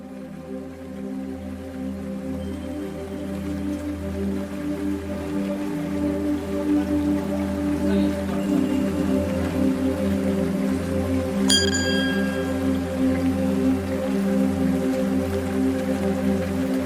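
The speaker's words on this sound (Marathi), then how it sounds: "जोरदार एकदम मुसळधार पाऊस चालू झाला आहे." Heavy downpour during a pilgrimage journey to the Jyotirlingas and Char Dham, a loud, steady roar of rain that builds slightly and continues unbroken, with one brief sharp knock partway through and no voices.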